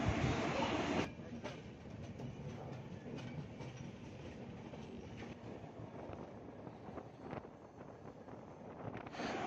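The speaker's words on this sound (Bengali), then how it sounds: "ট্রেনটি আমাদের পুরীর উদ্দেশ্যে রওনা দিয়েছেন" A passenger train rolling through hilly country on the way to Puri, a steady broadband rumble of the carriages with faint clickety-clack of wheels on rail joints and some wind buffeting, continuous throughout.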